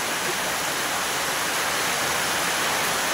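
Heavy wind-driven rain pours as a dense, even hiss that holds steady and loud throughout, with no voices.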